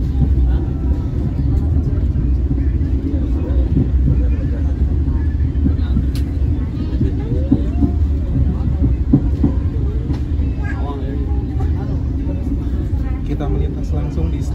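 KA Airlangga economy-class train running through Semarang Tawang station, with a loud, steady low rumble and rhythmic clickety-clack of wheels on rails heard from on board, and faint voices in the background.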